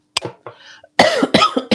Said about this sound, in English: Oh, excuse me for coughing.